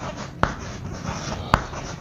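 Marker or chalk writing on a board in a geometry lesson on polygon exterior angles, heard as a steady scratchy scrawl with two sharp taps where the tip strikes the board.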